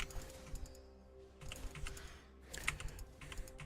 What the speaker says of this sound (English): part of it is me typing